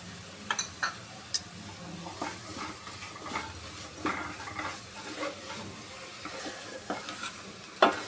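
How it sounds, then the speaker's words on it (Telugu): Capsicum and kasuri methi sizzle and fry in a pan, with a steady crackle and occasional sharp taps and scrapes of a spoon stirring against the metal, close and unaccompanied by talk. "క్యాప్సికమ్ వేసేసుకున్నాం అలాగే కస్తూరి మేతి"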